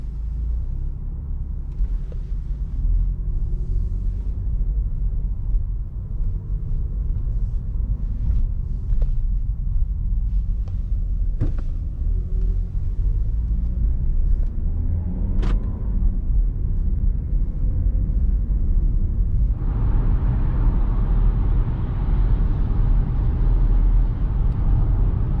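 A car driving along a fuel consumption test route, with a steady low engine and road rumble from inside the cabin, a few faint clicks, and a brighter wind or tyre hiss joining near the end.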